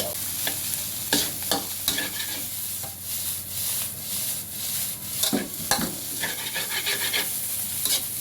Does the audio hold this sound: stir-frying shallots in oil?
yes